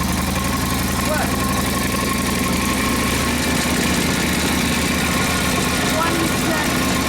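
A 1942 Harley-Davidson WLA 45ci flathead sidevalve engine running with the throttle wide open, a loud steady close-up rumble with rapid pulsing firing, while a person talks over it.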